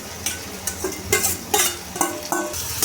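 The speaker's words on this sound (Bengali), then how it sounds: "এবার আমি ভালোভাবে মশলার সাথে কষিয়ে নেব এঁচড়টাকে।" Green jackfruit is sautéed with spices in a pan, rhythmic stirring scrapes and spatula knocks about every half second over a soft sizzle, close and clear.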